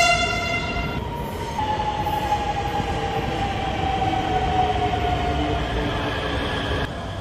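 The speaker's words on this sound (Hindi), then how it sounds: "भाई साहब क्या ट्रेन है ये," An Indian rapid rail train at a metro-style platform rolls past with a loud, continuous rumble and a rising and falling mechanical whine, close by and filling the whole stretch.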